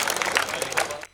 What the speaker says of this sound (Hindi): ताली ढंग की बजाओ यार,